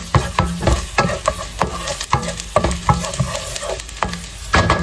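Garlic sautéing in a pan for a Filipino ginisang pork with sausage makes a loud, close sizzle, with repeated rhythmic spoon strokes and scrapes against the pan about every half second.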